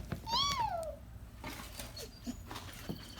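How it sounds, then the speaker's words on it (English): A kitten gives a single clear, rising-then-falling meow close by at the start, followed by quiet indoor rustling and faint background noise during pumpkin wreath crafting. "Hi, little kitten."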